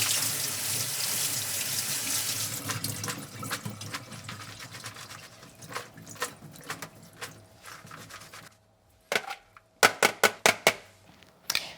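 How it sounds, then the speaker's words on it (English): Tap water runs into a kitchen sink while green onion is washed, a strong hiss at first that thins into splashing and rubbing, ending in a series of sharp knocks and drips. "So I need to drain this and then wash under running water."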